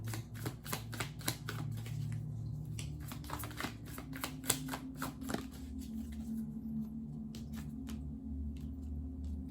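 Tarot cards being shuffled and drawn during a reading, a dense run of quick papery riffles and flicks that thins into scattered soft card snaps against a low steady background hum.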